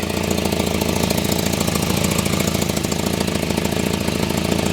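A 1985 Volvo 245 engine idles steadily and close, with a rhythmic, ticking puff from an exhaust leak running through the rumble, continuous for several seconds.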